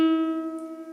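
One plucked guitar string sounding flat, tuned too low in pitch, rings with a bright attack and a steady sustained tone that slowly decays, heard alone without speech.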